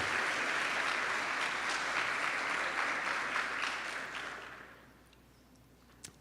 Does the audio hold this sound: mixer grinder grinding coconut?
no